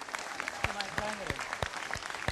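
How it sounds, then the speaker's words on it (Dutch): Crowd applause for the group Zoon en Nacht at a live event: a steady wash of clapping with a voice and tonal sounds over it. "Meestal nog 1 groot applaus voor de groep Zoon en Nacht van de"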